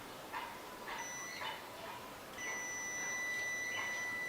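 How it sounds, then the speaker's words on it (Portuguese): A multimeter on its continuity setting beeps while testing a circuit: a thin, steady electronic tone that starts partway through and holds, fairly faint, over brief yelps and other background noise. "ela vai bipar, vai sinalizar identificando que tem continuidade nesse circuito"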